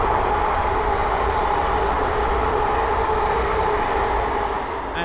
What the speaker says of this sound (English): the next train to pass by is a pair up London the Western Railway Class 350s